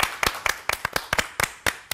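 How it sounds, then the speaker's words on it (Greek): About a dozen sharp hand claps in an uneven rhythm from a small group on a Greek daytime TV show studio, close and crisp with no talking over them. "Τι θέλει, χειροκρότημα."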